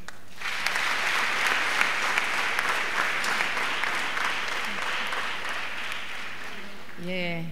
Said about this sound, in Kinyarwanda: nawe mumuha amashyi.